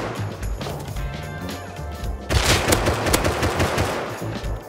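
Rapid automatic gunfire in the survival shooter Rust, with dense overlapping shots and bursts that jump louder midway, a constant barrage of close and distant rounds.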